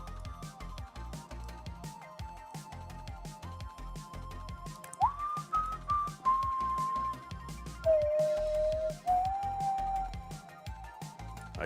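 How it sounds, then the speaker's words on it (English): A person whistles a wavering melody along to catchy music during a classic Tetris match, the clear tune shifting in pitch over a quiet rhythmic backing. "I can't help but whistle. It's so catchy."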